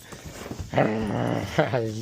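A dog growls and rumbles up close in a short, sustained burst, rising partway through and holding steady to the end, with a brief break before a second push.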